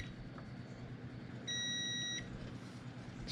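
A multimeter set to continuity gives a single steady electronic beep lasting under a second, clear and close over a quiet hum of background noise.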